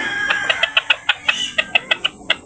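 Red junglefowl clucking at feeding time on a farm: a steady run of about a dozen short, sharp, close clucks in a quick, even rhythm, with no talk.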